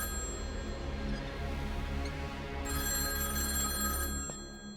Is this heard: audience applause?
no